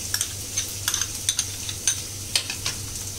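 Fried potatoes being stirred with yogurt in a pan for Kashmiri dum aloo, a soft background sizzle broken by repeated scraping clicks of the spoon, close and steady.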